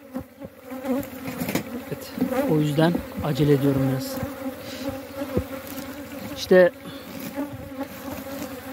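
Honeybees buzz steadily around a hive in a rural apiary, close and constant, with someone speaking over the humming drone.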